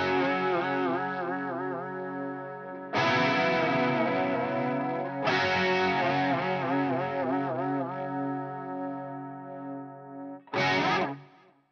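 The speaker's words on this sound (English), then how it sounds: "So this is going to be the Helix direct as far as what you're hearing." An electric guitar goes direct through a Line 6 Helix with effects, playing a few sustained, chorused chords, each struck and left ringing with wobbling modulation, then one short final strum.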